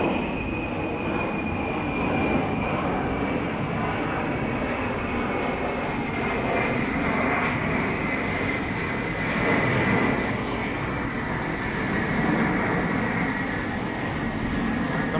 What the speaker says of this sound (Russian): Я себе как самолет низко летит.